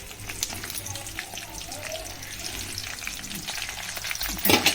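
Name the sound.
red chillies frying in hot oil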